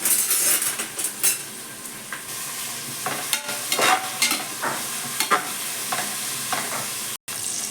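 Onions sautéing in hot oil for a South Indian veg biryani, stirred steadily: a close, continuous sizzle and fry broken by scraping spoon strokes and light clinks against the pan.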